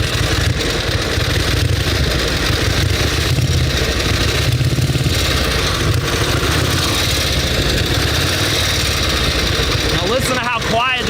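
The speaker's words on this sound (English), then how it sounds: "Now listen to how quiet this motor is" A 1916 Harley-Davidson sidecar motorcycle idling low with a steady, soft mechanical chug throughout, near and continuous.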